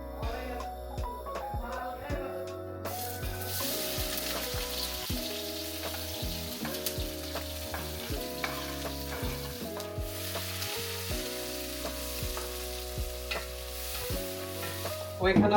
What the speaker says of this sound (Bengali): ওইখানে আপনার পেঁয়াজ কষানো হইতেছে মশলা দিয়ে